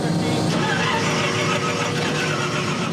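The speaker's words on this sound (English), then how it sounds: "fires up the Daytona" A Daytona race car engine fires up and runs loud and close at a South African tourist trophy race, a dense continuous roar filling the whole moment.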